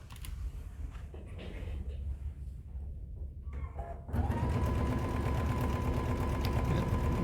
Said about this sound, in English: And I'm gonna sew that on with a 1/4 inch.